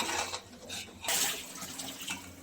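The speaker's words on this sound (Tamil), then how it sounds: "ஒரு அரை டம்ளர் அளவுக்கு ஒரு டம்ளர் அளவுக்கு தண்ணியை ஆட் பண்ணுறோங்க" Water splashes and pours in bursts into a pot of chicken biryani, about half to one tumbler's worth, close and moderately loud with brief pauses between pours.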